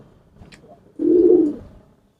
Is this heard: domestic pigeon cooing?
yes